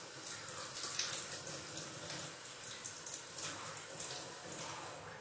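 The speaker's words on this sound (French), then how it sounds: "Je rince la louche." A ladle rinsed under a running tap during homebrew beer racking, a steady moderate rush of water that goes on without a break.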